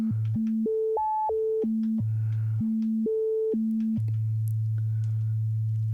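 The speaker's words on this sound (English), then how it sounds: "So I can play a sequence through it, and we can hear that that's a sine oscillator." A Loki synth module's filter, resonance at maximum, self-oscillates as a pure sine tone, stepping through a sequenced melody of clean, steady pitches up and down, alone and prominent, ending on a long held low note.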